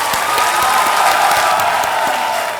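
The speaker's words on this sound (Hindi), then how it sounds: "तालियां बज जाएं इनके लिए।" A studio audience on a televised quiz show bursts into loud, sustained applause with some cheering and whoops, dense clapping close and full throughout, tapering slightly at the end.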